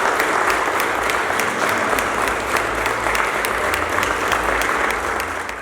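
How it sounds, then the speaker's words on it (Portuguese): A church congregation claps at a Sunday worship service in loud, dense, steady applause with sharp individual claps, sustained throughout and easing slightly at the end. "Uma salva de palmas para Jesus."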